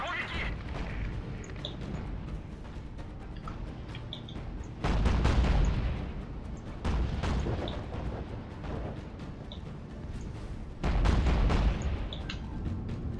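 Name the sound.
naval guns firing at a cruiser in Battlestations: Pacific video game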